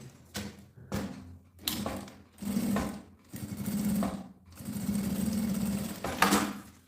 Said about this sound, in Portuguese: Então, coloco o viés aqui e passo a costura.